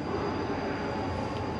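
A train moving through a station, a steady broadband rumble and rail roar, fairly loud and continuous with no voices over it.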